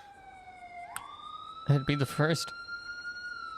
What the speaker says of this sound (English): I hear ambulances.